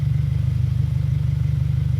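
Loud, close car engine with an aftermarket exhaust, an aggressive exhaust burble, a rapid pulsing rumble that holds steady throughout, with no talking.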